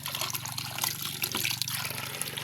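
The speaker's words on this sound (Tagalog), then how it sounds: "talaga napakalamig ng tubig na ito guys" Cold tap water runs steadily in a continuous close splashing stream, with no talking.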